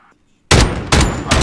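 Light machine gun fire in Modern Warfare, loud close bursts kicking in suddenly after a near-silent start, three heavy rattling volleys in quick succession.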